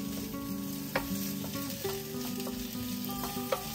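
Three peppers sizzle steadily in hot oil in a pan while being prepared for Brazilian carne louca, with the occasional sharp pop and scrape of stirring breaking through the continuous frying hiss.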